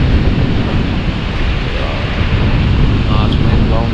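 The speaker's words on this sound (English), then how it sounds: "it's wind blowing that rod" Wind gusting across a beach at night during bass fishing near Dublin, Ireland, buffeting a fishing rod on a tripod, a loud continuous roar of wind noise with a faint surf-like wash throughout.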